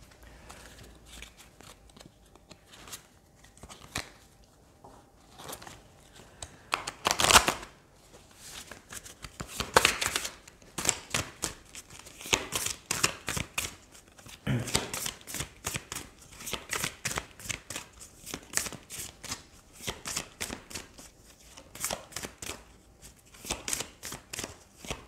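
Oracle cards being shuffled and cut for a love reading, making close, crisp riffling and slapping sounds in irregular bursts that recur throughout, with no voice heard.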